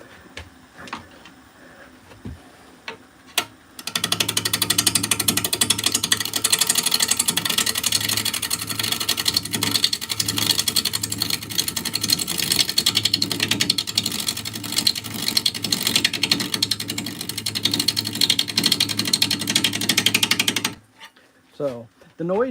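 Wood lathe spins an out-of-round blank while a tool cuts it. A loud, continuous rough grinding roar carries a rapid repeating thump for most of the clip, then stops abruptly near the end, with quiet handling noise before and after.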